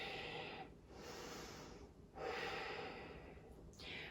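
Slow, deep breaths during a yoga practice: two long airy inhale-exhale cycles and the start of a third, close and soft, with no talking.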